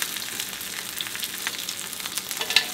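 A beef patty sizzles on a hot griddle with a bright, steady crackle and a few sharper pops, close and fairly quiet, with no talking.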